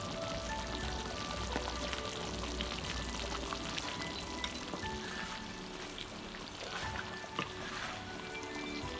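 Chicken pieces go into a pot of simmering kuzi sauce with ground almonds and condensed milk, giving a steady, dense sizzle and pouring wash with occasional stirring clinks, fairly close and with no voices.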